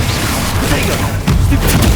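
A Confringo blasting-curse explosion from Hogwarts Legacy, a loud, dense rumbling blast with continuous booming low-end, growing heavier partway through, with a voice under it.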